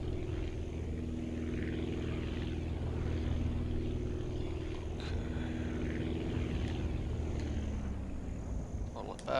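The propeller airplane engine in the flight game Aviassembly drones steadily at moderate volume, its tone shifting slightly as the throttle changes.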